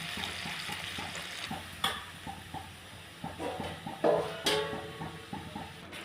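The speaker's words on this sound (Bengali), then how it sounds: "এবার একটু জল দিয়ে দিচ্ছি, তাহলে একটু সেদ্ধ হয়ে যায়।" Water poured into a pan of taro curry, giving a soft hiss and sizzle with a few stirring clatters and spoon taps over about six seconds, close and fairly quiet.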